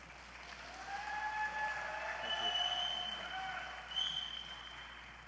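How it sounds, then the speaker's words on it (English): Audience applause at an American Legion national convention, a steady wash of clapping in a large hall that swells and carries on for several seconds at moderate distance. "You can clap."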